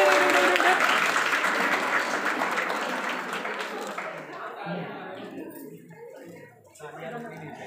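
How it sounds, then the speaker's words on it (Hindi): Audience clapping at a college commerce department freshers party, a dense sustained wash of applause that gradually thins and fades over several seconds. "ताली ताली ताली ताली ताली।"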